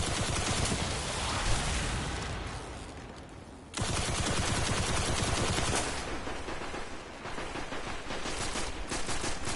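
Dense automatic gunfire from a splicer enemy in the video game Destiny, a loud continuous rattle of shots that briefly drops out and then resumes just as heavily.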